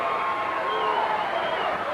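An arena crowd at a 1985 Portland professional wrestling show keeps up a dense, steady roar with a rhythmic chant rising through it, loud and continuous from start to finish.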